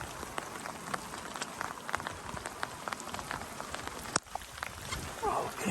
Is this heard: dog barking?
no